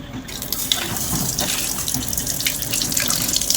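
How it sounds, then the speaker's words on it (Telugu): Tap water runs and splashes steadily while a knife is rinsed after planting flowers, a close, continuous gushing with small fluctuations as the stream hits the blade and sink. "నైఫ్ని అయితే వాటర్తో పోసేసుకోవాలండి"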